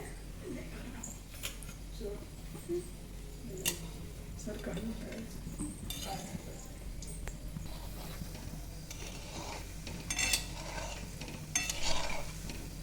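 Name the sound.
gulab jamun balls frying in oil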